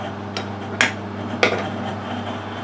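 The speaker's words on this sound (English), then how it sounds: "And that's a 1/4 BSP pipe fitting. And it should screw into there and then start to tighten up." A 1/4 BSP metal pipe fitting being screwed into a freshly cut thread gives two sharp, brief metallic clinks close by over a steady low hum, with no talking.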